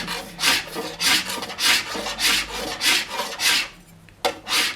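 A hand file rasps excess repair material from a ski base in a steady rhythm of about nine strokes, each a loud close scrape followed by a brief pause, with no talk.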